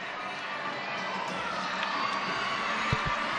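A basketball crowd cheers and shouts as the Canterbury Rams mascot fires T-shirts into the stands, a broad steady roar of voices with a couple of sharp low thumps near the end.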